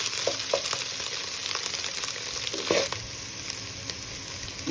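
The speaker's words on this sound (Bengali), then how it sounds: "এটা নাড়াচাড়া করবো সুন্দর। যখন ভাজা ভাজা হবে" Spice paste for a prawn and fig curry fries in a pan with a constant sizzle, broken by occasional scraping and clinking as it is stirred. No one speaks.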